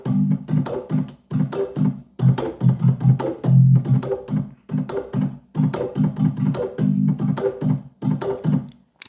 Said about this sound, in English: the double shuffle followed by the drag.